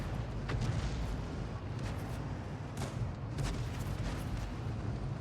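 Self-propelled artillery gun firing in a tank video game: a deep rumbling boom with sharp crack-like bursts, heavy and continuous low-end roar, near and loud.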